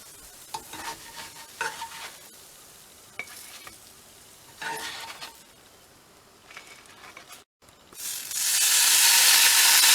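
Bacon fries in a pan inside an RV, with intermittent sizzling and scraping stirs close by, then a brief quiet gap before a loud, steady hissing sizzle takes over.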